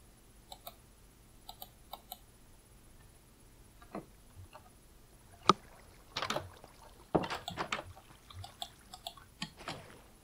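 Oars row a boat in a video game, giving soft splashes and watery strokes at moderate distance. Faint clicks sit between the strokes, and the sound is quiet and uneven.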